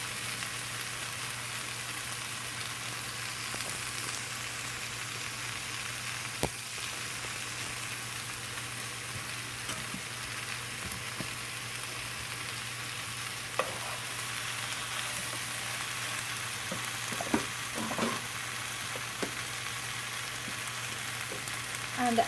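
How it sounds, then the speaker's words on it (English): Mango curry sizzling and being stirred in a pan, a steady soft frying hiss with occasional scraping clicks of the spoon against the pan, fairly quiet and close, with no talking. "mix the curry well into it."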